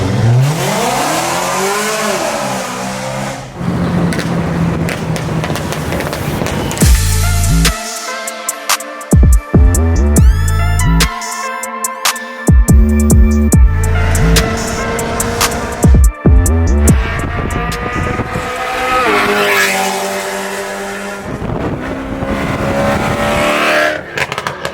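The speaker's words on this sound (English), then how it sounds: "A lot of cars pulling up, a lot of special cars" Engines rumble and rev loudly as several special cars arrive at a car meet, with bursts of acceleration and throttle blips layered over a continuous motor drone.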